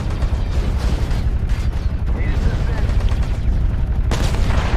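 Mech gunfire in MechWarrior Online with modded sounds, a dense, loud barrage of rapid weapon bursts that keeps going throughout the stretch.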